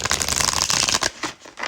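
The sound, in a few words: tarot card deck being shuffled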